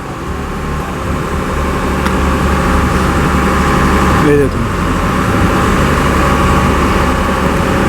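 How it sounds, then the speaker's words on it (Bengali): A river launch's engine drones steadily on the Ganges near Konnagar, a continuous low hum with a brief disturbance partway through, no voices heard. "চলুন আমাদের লঞ্চ ছেড়ে দিয়েছে"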